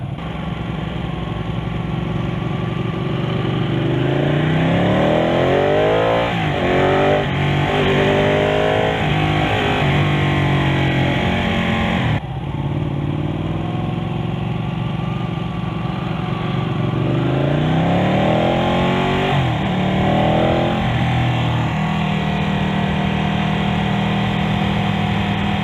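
Ducati 899 Panigale motorcycle engine on a road demo ride, a steady loud drone with repeated rising and falling pitch sweeps as the rider works through the gears, with a brief dip midway.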